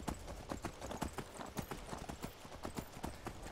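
Horse hooves clip-clopping in a steady trotting rhythm while riding in the video game Skyrim, a quick run of soft repeated hoofbeats heard alone.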